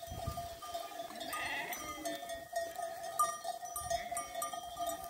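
Sheep bleat in a field, a few sustained calls rising over a steady background hum, moderately distant, with faint bell-like tones and no talking.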